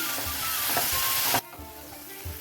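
Small chopped green chilies sizzle steadily in hot oil in a pan, with stirring scrapes, then the frying drops abruptly to a quieter crackle as the heat or pan shifts; no talk.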